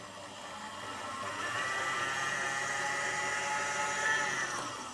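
An electric mixer whirs steadily through cream cheese frosting, a continuous mid-pitched motor drone that swells slightly and holds, close and even, with no voices.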